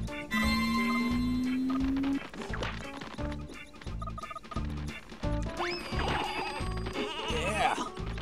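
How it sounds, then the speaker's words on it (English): Sheep bleating in the N64 game Space Station: Silicon Valley, several wavering synthetic bleats over a steady thumping music beat, with crashing impact sounds mixed in. "those are actually sheep that can ram as opposed to float"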